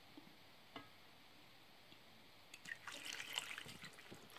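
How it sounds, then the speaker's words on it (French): Water is poured into a pot of chicken with vegetable stock, a faint trickle and splash arriving after a few quiet seconds and continuing briefly. "Je viens rajouter maintenant de l'eau."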